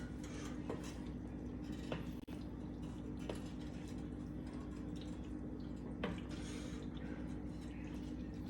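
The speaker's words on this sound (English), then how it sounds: "Stir it up." A spoon scrapes and clinks faintly against a pot as Hamburger Helper with milk is stirred, with scattered soft metallic taps and a low kitchen hum.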